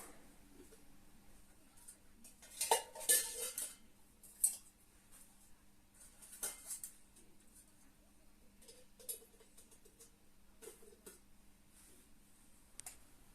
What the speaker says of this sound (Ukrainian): Ось такий у мене набір походного посуду.